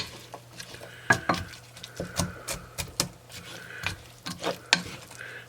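A medium onion, about a cup, sautés in a pot on a slow stove, heard as a quiet sizzle broken by irregular scraping and tapping from stirring.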